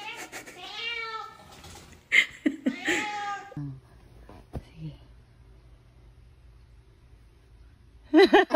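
A pet cat meows several times in drawn-out, wavering calls, close and fairly loud, with a long pause of quiet room noise before a final sharp cry.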